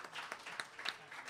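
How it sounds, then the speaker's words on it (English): Scattered hand clapping from a small panel audience at a fighting game event, brief and moderately quiet, with irregular sharp claps rather than a full roaring ovation. "So a round of applause for them"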